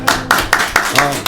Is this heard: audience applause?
yes